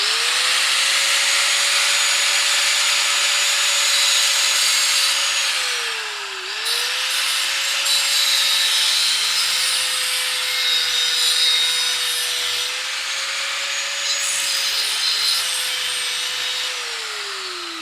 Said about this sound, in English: So we're going to start with the cutoff wheel.